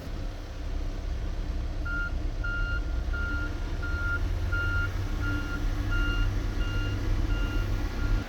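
A large John Deere machine backing up in snow, its reversing alarm beeping at a steady rhythm over a continuous low engine rumble, moderately near.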